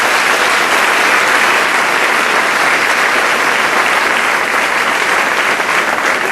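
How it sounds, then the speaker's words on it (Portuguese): A church congregation applauds during a sermon, with thick, continuous clapping from many people that stays loud and even for over six seconds. "aplauda o Senhor Jesus."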